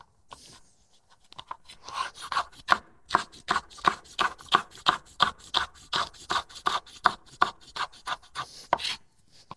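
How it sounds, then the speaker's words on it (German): A knife slices half a bell pepper and other stir-fry vegetables into fine strips on a board, a steady run of crisp close chops after a slow start, with no talking. "wir schneiden uns jetzt einfach unser Gemüse in feine Streifen"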